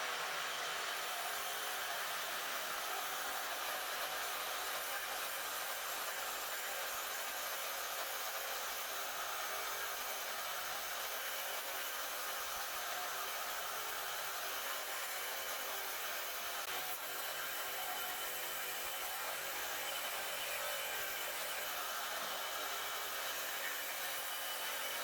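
Kobalt XTR cordless reciprocating saw running on a fully charged battery, cutting through material in a continuous, steady buzzing roar that holds for the whole stretch without a pause, fairly quiet overall.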